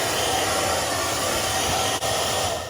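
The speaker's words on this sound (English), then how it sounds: "I just started blowing a hairdryer on it" A hairdryer blows steadily on ice clogging the drain of a GE Profile bottom-freezer refrigerator, a continuous close, loud whooshing hiss with a brief dip near the end, no voices.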